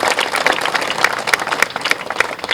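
Audience applause at a political gathering for candidate Manoj Tiwari: a dense, steady crackle of many hands clapping, loud and close, lasting the whole stretch.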